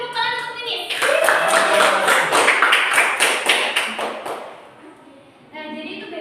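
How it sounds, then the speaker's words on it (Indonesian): A class in a microteaching lesson claps hands together, a burst of quick, loud, closely spaced claps lasting about four seconds, with the teacher's voice and background music before and after. "Beri tepuk tangan untuk ini."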